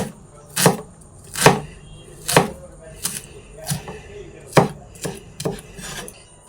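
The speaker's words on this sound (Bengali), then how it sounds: "কুচি কুচি করে কেটে নেব।" A knife chops a halved medium onion finely on a cutting board, eight or nine crisp, close knocks at an uneven, unhurried pace with quiet gaps between strokes.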